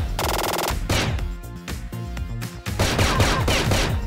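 An AA12 automatic shotgun fires in the game CrossFire: loud, close bursts of rapid blasts that run almost continuously with only brief gaps.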